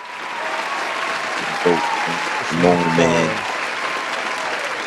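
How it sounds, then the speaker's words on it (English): A canned applause sound effect is played on a podcast, a steady wash of clapping and crowd noise running the whole time, with someone talking over it near the middle. "Yo, Fred, pull them applause up, bro."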